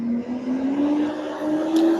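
A truck passes along the road outdoors, its steady engine drone rising slightly in pitch and holding loud and close throughout with no pause.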